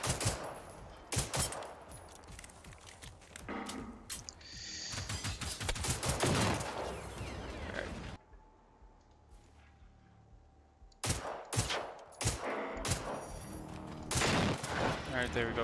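Bursts of gunfire from the shooter game Generation Zero, loud and close, with sharp volleys in the first half, a quiet lull with a low hum, then more shots resuming near the end.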